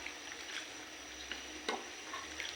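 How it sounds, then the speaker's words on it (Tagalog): Chop suey thickened with cornstarch gets stirred in a sizzling pan, a soft steady frying hiss with faint scraping strokes and light clicks of the utensil. "Haluin lang natin."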